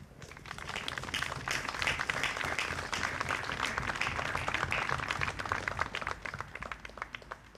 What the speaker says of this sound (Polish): Przywitajmy ich oklaskami.